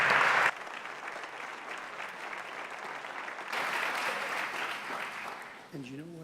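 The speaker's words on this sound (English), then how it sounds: "Let's give them a nice round of applause, please." Steady applause from an audience at a 2018 Granada High School senior awards ceremony, filling the room with dense clapping that swells again midway before a voice begins speaking near the end.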